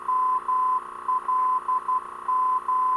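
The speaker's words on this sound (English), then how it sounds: "Listening for the Morse code identifier of the..." Morse code identifier OLM from a navigation beacon, received in a small aircraft: a steady, clear beeping tone keying long and short pulses in a regular pattern over a low constant cockpit hum.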